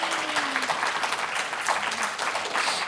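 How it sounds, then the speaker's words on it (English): An audience applauds steadily, a dense wash of clapping hands that stays even throughout. "Please welcome Drew to Rochester with a hearty round of applause."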